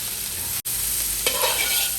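Onions, green chillies and curry leaves tossed into hot oil in a pan for a village-style mutton curry, a steady loud sizzle that briefly cuts out and then flares with fresh crackling, no talking.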